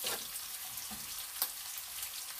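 Garlic frying in a pan for fish sarciado gives a steady, soft hiss and crackle with a few brief stirring clinks, close by and with no talking.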